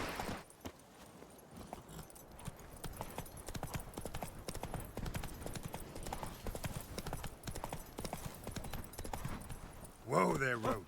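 Roach the horse clip-clops steadily on hooves in The Witcher 3, a continuous walking rhythm under game music and ambience, with a spoken voice near the end.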